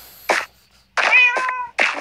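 A cat in a Minecraft-style crafting game meows three times, clear close mews with gaps between, the middle one longer and more drawn out, with no talking.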